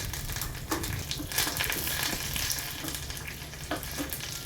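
Mustard seeds, cumin, green and dried chillies and curry leaves crackle in hot oil for a tempering, a dense steady sizzle with a few sharper pops, close and continuous with no talking.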